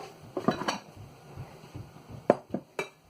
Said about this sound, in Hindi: अब मैं पाट लेती हूँ।